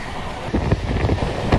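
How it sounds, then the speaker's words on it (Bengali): Kolkata Radhikapur Express running above 100 km/h near Dum Dum, heard from inside as a loud steady roar of wheels and wind with rhythmic rail clatter thumps. "এই ট্রেনটা 100-র উপরে স্পিড তুলে নিয়েছে"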